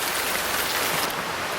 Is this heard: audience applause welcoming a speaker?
no